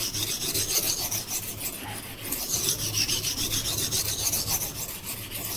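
A knife blade rasps back and forth on the finer side of a Norton Compass 37C sharpening stone, steady rhythmic gritty strokes, close and continuous, with no voices.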